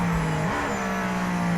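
Mercedes-AMG ONE with its Formula 1-derived hybrid engine, heard from inside while driving: a steady, loud high-pitched engine note holding on-throttle, with a brief rise in pitch as the revs climb early on, and no talk.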